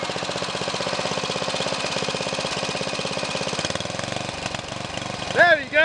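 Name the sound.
lawn mower engine running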